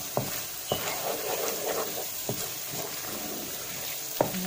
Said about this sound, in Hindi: हम अच्छे तरीके से इसको मिक्स कर लेंगे।